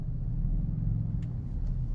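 A car drives along a street lined with new Porsches and BMWs, a low steady engine and road rumble heard from inside the cabin, with two faint high ticks.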